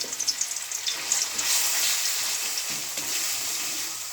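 Spice paste with onion and garlic sautéing in a pan for a village-style parshe fish dish with white greens and potato, giving a loud, continuous near sizzle with occasional stirring scrapes and no talk.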